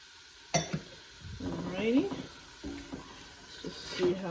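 Carrots and a large onion dropped into a hot pot on medium heat, sizzling and frying as they are stirred, with clattering of a utensil against the pot and a person talking over it.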